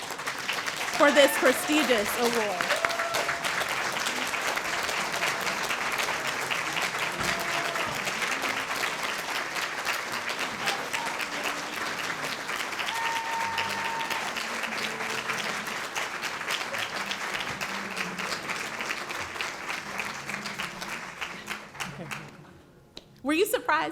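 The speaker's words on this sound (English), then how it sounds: "join me in standing and giving a round of applause to Fred Lugo" A luncheon audience at a volunteer recognition event applauds an award recipient, steady sustained clapping for over twenty seconds, loud and dense, with a voice briefly speaking over it at the start and the clapping tapering off at the end.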